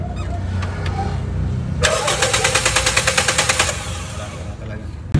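Toyota Vios second-generation engine cranking in a rapid, even rhythmic chatter for about two seconds on a failed start attempt with a suspected bad fuel pump, loud and close, then cutting off without catching.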